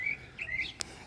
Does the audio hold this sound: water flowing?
no